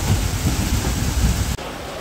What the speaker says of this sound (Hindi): स्वागत हुआ हमारा भव्य बारिश से, एकदम तेज़ सी बारिश आई।